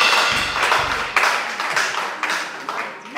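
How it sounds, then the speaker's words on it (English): A congregation claps for a bride and groom standing before a church altar at a wedding, brisk scattered hand claps rising and falling over a low hum at first, moderately loud and continuing throughout. "A round of applause for them, brethren."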